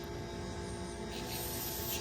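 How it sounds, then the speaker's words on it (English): Cleaner sprays through the small passages of a small-engine carburetor, such as on a chainsaw, weed eater or leaf blower, a steady close hiss that swells slightly toward the end. "Pretty much any hole you can find, spray a little bit through there, make sure everything is flowing correctly."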